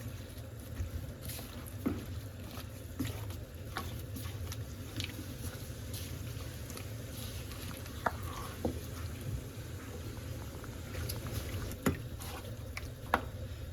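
Chicken pieces are worked by hand into a tandoori masala marinade in a bowl. Soft, faint wet squelching and slurping runs quietly throughout, with occasional small clicks and taps.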